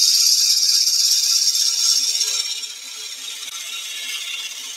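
A bowl gouge roughs out a wooden bowl spinning on a lathe, giving a steady, bright hissing shear of cut wood that is loud at first, then eases to a softer continuous scrape. No talk is heard.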